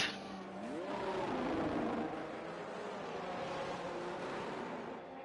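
An F1 race car engine heard on board during a flying lap in F1 23 at Las Vegas: a steady high-pitched whine that rises through the gears and holds at speed.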